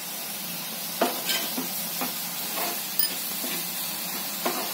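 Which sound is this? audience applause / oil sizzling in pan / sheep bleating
oil sizzling in pan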